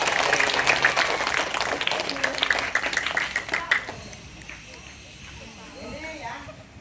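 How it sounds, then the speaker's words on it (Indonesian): Students at a fire-safety demonstration clap together in a loud, dense burst that runs for several seconds, then fades to scattered voices and quieter background noise. "Tepuk tangan."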